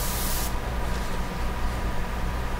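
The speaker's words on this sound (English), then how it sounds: "I always test it before I spray." A side-feed Eclipse airbrush with a 0.30 nozzle sprays as a test: a loud, steady hiss of air and paint that stops abruptly at about half a second, leaving a softer continuous hiss.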